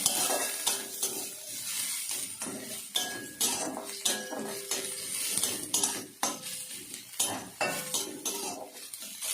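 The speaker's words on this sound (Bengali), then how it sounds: "পেঁয়াজগুলো তেলের মধ্যে দিয়ে দিলাম, একটু নাড়াচাড়া করতে হবে।" A utensil clinks and scrapes against a pan as onions are stirred in hot oil, with a soft sizzle underneath and repeated irregular metallic knocks close by.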